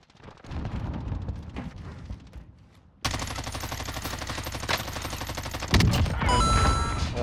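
Rapid bursts of Warzone video game gunfire rattle continuously, with a brief pause before heavier, denser automatic shooting and explosions take over.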